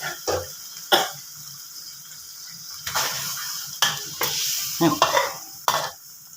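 Spicy catfish curry stir-fried in a pan with eggplants, bursts of sizzling and spatula scrapes in uneven clusters over a quiet background, no talking.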